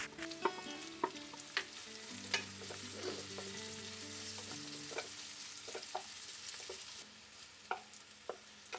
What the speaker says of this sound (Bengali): সাইড করে একটু ভেজে নেব।